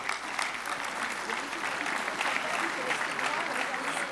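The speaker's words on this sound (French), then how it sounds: "Je vous remercie sous vos applaudissements" An audience at a colloquium on inclusive work applauds volunteers, a continuous crowd of hands clapping at moderate loudness, with faint murmuring voices underneath.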